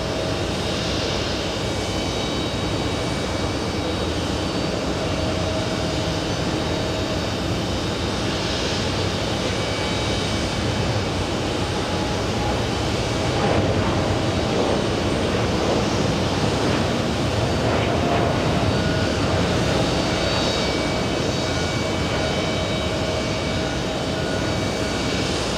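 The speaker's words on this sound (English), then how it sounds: "All right, KLM on the move." A KLM jet on the move at JFK produces a broad, constant engine roar with a rushing, wind-like wash, steady and fairly loud from start to finish.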